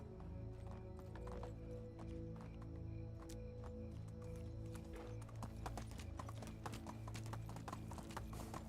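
A horse gallops with rapid rhythmic clip-clop hoofbeats and an occasional whinny in the medieval village-building video game Medieval Dynasty, steady and fairly loud over a faint ambient background.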